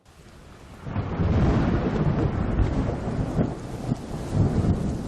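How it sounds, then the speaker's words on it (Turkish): Thunder rumbles low and heavy beneath steady, dense rainfall over Istanbul at night, a continuous storm roar that swells after a quiet opening and stays loud throughout. "önce şimşeklerle aydınlandı sonra da sağanakla yıkandı"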